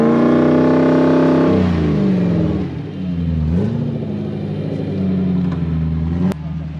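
A Toyota Surf 4Runner with a 1UZ V8, stuck in slippery clay, revs hard and loud up close; the engine note climbs, drops, then holds in a strained, wavering drone as the wheels spin.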